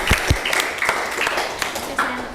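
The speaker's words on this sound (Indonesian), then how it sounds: "Tepuk tangan untuk kelompok 1." Classroom applause for a student group, a steady wash of clapping hands filling the room at fairly close range, with a few sharper individual claps standing out.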